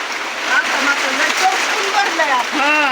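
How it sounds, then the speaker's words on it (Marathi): Heavy rain pours steadily onto surfaces around a shed, a dense hiss close by, while voices talk throughout over the downpour. "अहो पाऊस असा आहे ना"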